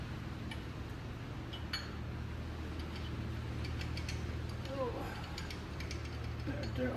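Spanners are worked against bolts and nuts for leverage, giving faint metallic clicks and ratchet-like ticks over a low, steady background hum, quiet and intermittent.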